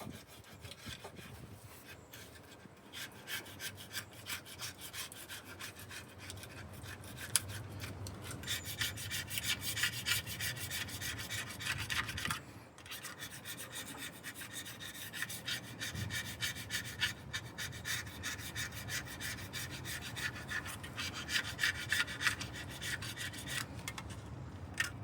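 Old seal sludge is scraped off a 1950 Chevrolet water pump with a continuous rough, gritty rasping, strokes rapid and close, with a couple of brief pauses along the way.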